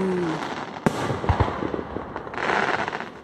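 Fourth of July fireworks in Aurora bursting in sharp, loud booms and crackles, with a few distinct bangs spread across a couple of seconds and a dense crackling fizz toward the end.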